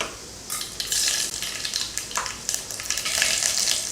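Mustard seeds crackle and sizzle in hot oil in a pan while tempering for rasam, with steady close frying hiss, sharp popping bursts and a few utensil scrapes, no talking.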